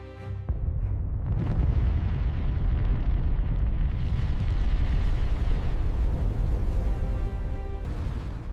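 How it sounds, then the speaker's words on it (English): A volcanic eruption explosion at Thera starts with a sharp blast, then a sustained, heavy roaring rumble that swells and continues to the end. "The explosion was heard across the Mediterranean."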